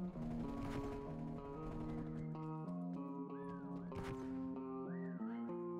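Tonal whistling, with melodic rising and falling pitches, in the video game Call of Duty Black Ops Cold War, heard alongside in-game clatter and impact sounds.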